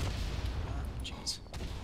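Artillery shell blasts in the Verdun first-person shooter, a loud low rumbling explosion with sharp crackling bursts layered over steady battlefield din.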